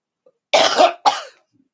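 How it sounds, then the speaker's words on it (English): Two loud, close coughs from one person, a long harsh burst followed by a shorter one, each with a sharp start, set against silence. "Oh, big cough!"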